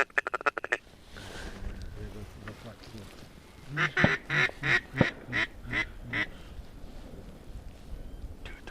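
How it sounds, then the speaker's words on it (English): Many ducks quack overhead in the dark on opening day of the Ohio duck season, a rapid run of loud, close quacks over marsh noise. Hunters speak quietly in the background. "there's so many birds above us. They're everywhere."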